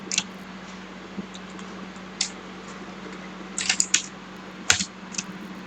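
Computer keyboard keys are tapped to send an Alt+Enter command in R Studio, giving a few faint, sparse clicks over a steady background hum.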